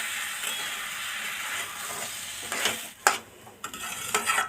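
Rice stir-fried in a pan for a sweet Odia khechudi gives a close, soft sizzle with scraping stirs, ending in a few sharp clanks of the spoon against the pan.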